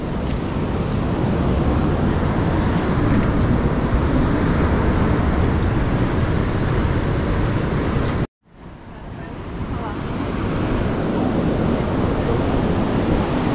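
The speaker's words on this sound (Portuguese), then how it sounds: "Olha a onda chegar." Ocean surf rolling in along a rocky shoreline during a coastal hike, a steady loud wash of breaking water and wind that drops out briefly and then surges back.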